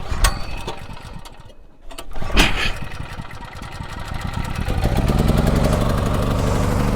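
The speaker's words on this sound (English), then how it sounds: "So the generator is on." A petrol generator is pulled to start, first with a few sputtering cranks and clanks and a brief catch, then after about five seconds it fires and runs with a loud, steady, buzzing drone.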